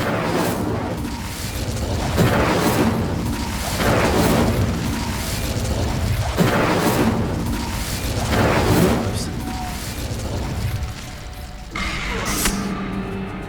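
Incendio fire spell cast in the video game Hogwarts Legacy, heavy booming bursts of flame repeating over a dense game soundscape, loud and close.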